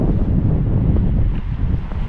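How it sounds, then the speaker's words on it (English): Strong wind buffets the microphone on a steep coastal slope above a beach reachable only by boat along the Lycian Way, a steady loud rumbling roar with no talking. "So really windy."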